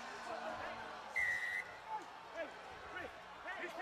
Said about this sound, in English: Whistle has gone